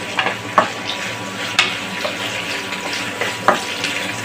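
Whole dry spices such as black pepper, cinnamon and cloves dropped into hot oil for mutton biryani, giving a steady close sizzle with a few sharp clinks from stirring and no talk.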